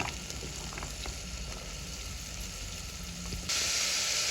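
Carrots and chopped onion frying in hot oil for a vegetable biryani, a steady close sizzle throughout that turns brighter and louder near the end.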